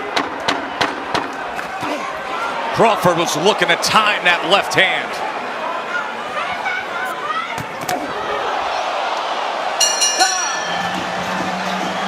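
A boxing arena crowd hums and swells during a title fight, a continuous murmur with scattered louder bursts beneath an excited commentator talking throughout.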